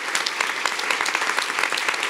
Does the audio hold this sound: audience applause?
yes